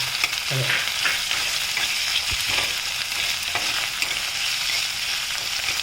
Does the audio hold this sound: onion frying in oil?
yes